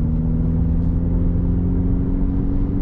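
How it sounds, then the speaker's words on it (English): Turbocharged 2021 Mini Countryman S All4 accelerating at half pedal, a steady mid-pitched engine hum heard from inside the cabin, even and sustained with no talk. "So I just give them about half pedal to see, so you can see what they are just for everyday driving."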